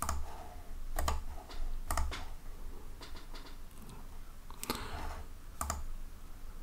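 Quick clicks from a computer keyboard as someone types, arriving in short bursts separated by brief pauses, close and fairly quiet.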